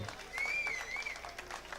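Steady applause from a crowd, with a faint whistle rising above the clapping partway through.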